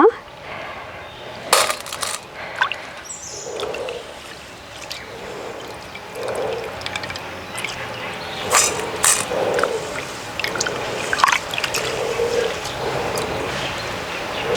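Water swishes and splashes in a bowl as soaked rice is stirred and rinsed, with repeated sloshing strokes and occasional clinks, close by.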